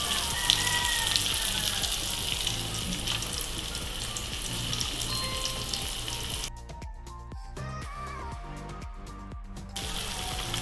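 Egg-battered KFC-style chicken joints fry in hot oil, making a dense, continuous close sizzle with light crackle that eases slightly partway through; no one speaks.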